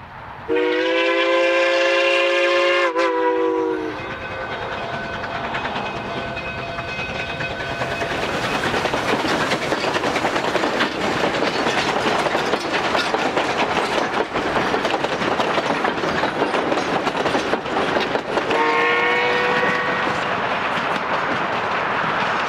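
A Durango and Silverton double-headed steam train, locomotives 473 and 493, sounds its horn in a long blast, then rolls through a valley with heavy rumbling and clattering wheels; a second horn blast sounds near the end.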